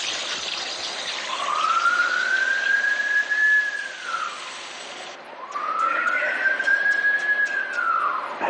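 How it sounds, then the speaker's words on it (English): A ship's collision alarm sounds during an engine room flooding drill: two long, loud wailing tones that rise and fall, one after the other, with no talking. "sound the collision alarm off"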